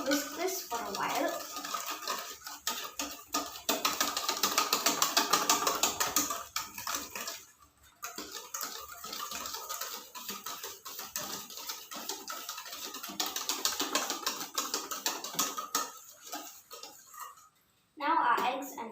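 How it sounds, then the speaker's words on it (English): Eggs and sugar being whisked in a bowl for an Oreo cake, a steady rapid clatter of whisk against the bowl running through most of the stretch with a brief pause near the end. "We're just going to whisk this for a while."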